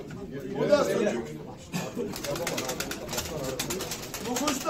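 Pigeons coo and flutter at close range at a bird auction hall in Yenimahalle, Ankara, a soft continuous murmur of birds with chatter and rustling throughout.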